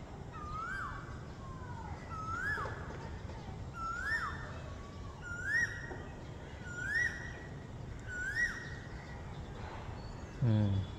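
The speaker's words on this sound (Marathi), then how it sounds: "छानपैकी बघा तुम्ही कोकिळेचा आवाज बघा, सुंदरपणे आवाज येतो ऐकायला" Asian koel calling in a city area of Old Panvel, Navi Mumbai, with about six rising whistled calls repeated every second or so over a steady hum of background noise.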